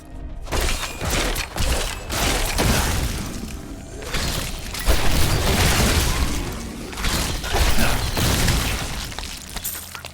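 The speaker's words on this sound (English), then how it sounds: "Corpse explosion." Corpse explosion skill in Diablo 3 sets off a dense run of booming bursts and shattering pops, loud and continuous across the stretch with repeated heavy impacts and crackling debris.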